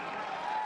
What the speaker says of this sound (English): The people clapping for him right here.